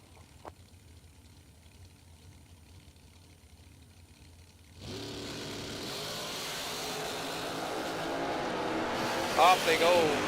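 Supercharged drag race cars launch at a half-million-dollar drag racing event: near silence for about five seconds, then a sudden, loud, sustained engine roar that keeps building, with a brief high squeal near the end.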